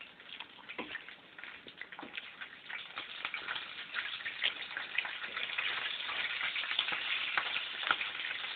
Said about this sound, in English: there's bacon almost done